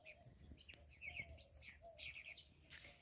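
Several birds chirp and tweet in overlapping bursts, faint and somewhat distant, over a low outdoor rumble.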